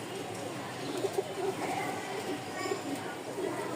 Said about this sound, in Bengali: খুব সুন্দর 2টা জোড়া কবুতর